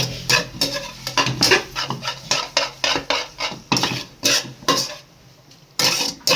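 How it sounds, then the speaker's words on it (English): Boiled noodles being stirred and tossed into vegetable chow mein in a pan, a steady run of scraping, clattering utensil strokes against the pan with a faint sizzle underneath, close and fairly loud with no talk. "This is the time to add the noodles in it. Give it a mix."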